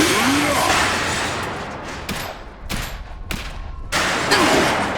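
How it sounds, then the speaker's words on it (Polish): Rapid bursts of gunfire crackle through a loud, noisy Iron Harvest battle scene, with a few sharper shots standing out near the middle. "Strzelają!"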